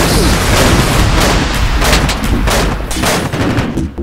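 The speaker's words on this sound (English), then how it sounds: "One thing you'll notice is that lasers no longer damage shields. Mortars." Mortar fire in the video game Islands of War: loud, dense booming and rumbling explosions overlapping with gunfire-like bursts throughout, a continuous barrage with no gaps.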